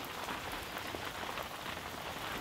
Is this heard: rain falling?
yes